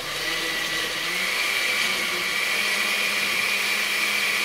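A kitchen blender blends a tomato salsa for meatballs, a loud, steady motor whir with a high whine that runs unbroken for several seconds, with no talk over it.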